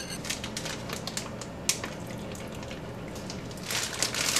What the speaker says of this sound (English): I am going to pour the rest of that marinade in here.